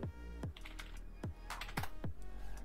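Typing on a laptop or PC keyboard, a handful of sharp, separate key clicks at an uneven pace over a steady low hum.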